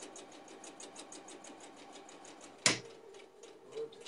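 A sewing machine stitching a disappearing nine patch quilt runs in a steady rapid rhythm, then the needle strikes a pin with one sharp, loud metallic clack before the stitching carries on, close and clear.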